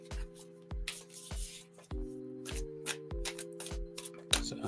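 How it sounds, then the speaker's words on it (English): Oracle cards shuffled close at hand in a series of crisp riffles and flutters, evenly spaced over a low sustained musical tone in the background. "So I'll shuffle up the cards nice and good here"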